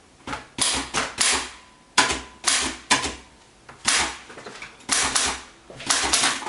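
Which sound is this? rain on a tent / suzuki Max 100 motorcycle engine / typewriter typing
typewriter typing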